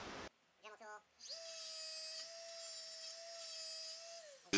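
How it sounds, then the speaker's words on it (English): A small rotary sanding tool whines steadily for about three seconds while widening a metal part to fit a lamp switch, after a few short scraping rubs, close and fairly quiet. "just sand that down a little bit"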